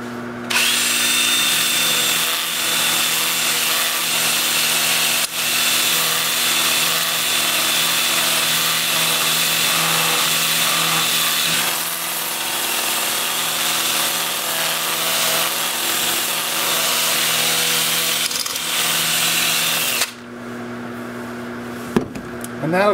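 A 2-inch sanding disc at 80 grit runs against a turned red cedar vase, giving a steady, loud, whirring grind that holds for about twenty seconds before stopping, with a few quieter clattering handling noises at the end.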